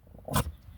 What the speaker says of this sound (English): please excuse my dog. She in the back barking at people.